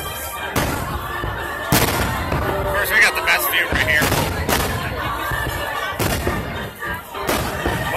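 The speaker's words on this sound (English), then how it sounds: "watching the fireworks from Magic Kingdom" Fourth of July fireworks over Magic Kingdom, heard as a run of booming bursts and crackles at middle distance, mixed with crowd noise while someone talks over them.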